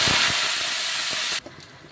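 Greens dropped into a hot pan of oil tempered with five-spice and two dried red chillies, giving a loud, dense hissing sizzle that cuts off abruptly after about a second and a half, leaving faint clinks in near silence.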